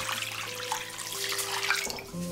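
Tap water runs into a pot holding chunks of cut chicken thigh, a soft, quiet splashing stream beneath steady background music.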